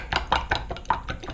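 A hair mask mixture is stirred in a bowl, producing quick, rhythmic scraping and tapping clicks close up, about six strokes in rapid succession.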